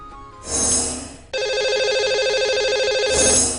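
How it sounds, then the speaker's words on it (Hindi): An outgoing phone call placed from a radio show to a caller: a ringtone sounds in loud, steady electronic bursts, with a brief pause before a longer ring, close and clear with no talk over it. "आइए उन्हें लगाते हैं सबसे पहले फोन"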